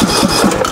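A riding lawn mower engine is cranked to start, giving a loud, close, rhythmic chugging that pulses several times per second without catching.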